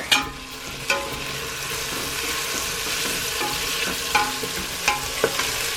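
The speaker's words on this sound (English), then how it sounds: "Just need to let them saute" Chicken meatballs sauté in a pot for albondigas, giving a steady, close sizzle and crackle with occasional scrapes and knocks from stirring, with no voices.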